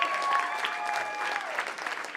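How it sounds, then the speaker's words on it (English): An audience at a comedy show applauds with a dense, steady patter of clapping that carries on evenly for a couple of seconds at moderate level. "give him another round of applause"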